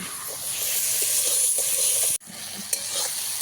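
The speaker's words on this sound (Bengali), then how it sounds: "আমি এখানে মাংসের জন্য দেখো পেঁয়াজ বেরেস্তা করছি" Onions frying for birista in a pan over a wood fire, a continuous bright sizzle with a brief break and a couple of sharp clicks, no talking.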